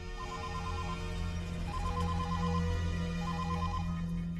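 A telephone rings for an outgoing call, its electronic ringtone repeating in short bursts of beeps over a low steady hum.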